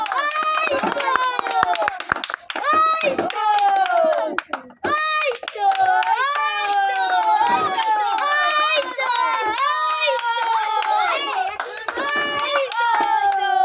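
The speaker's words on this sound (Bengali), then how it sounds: "হাততালি দাও, হাততালি দাও।" Children at a ball-in-bottle prize game clap and shout at close range, with lively overlapping high voices and bursts of clapping running continuously.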